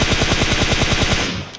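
Rapid automatic gunfire in the PUBG Mobile video game, a loud fast even burst of shots that trails off at the end.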